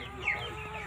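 Local chickens cluck briefly and softly at feeding time, a single short call over a quiet background.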